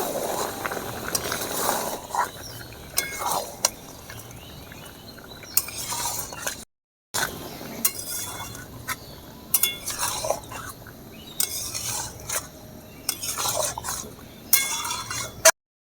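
Chicken cooked with tomatoes and spices in a pan, stirred with a spoon that scrapes and clinks against the metal in uneven bursts over a soft simmer, with a brief silent gap partway through.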